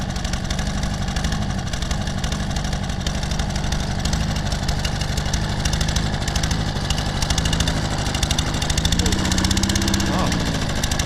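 A Toro Personal Pace Recycler self-propelled lawn mower engine, just fitted with a freshly cleared clogged air filter, barely running: a close, loud, rough, uneven idle that sputters and wavers in pitch throughout.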